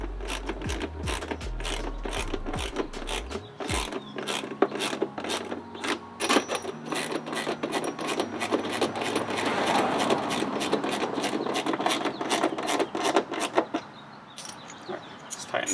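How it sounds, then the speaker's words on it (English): Mud flap bolts on a third-generation Toyota Tacoma are tightened with a ratchet, giving long runs of rapid clicking pawl ticks, close and loud, with a few low thumps at the start. "Tighten the sides again."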